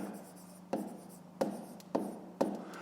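Pen strokes on paper while writing out a fifth-grade math exercise, soft scratching broken by four distinct tapping ticks, close and quiet with no talking.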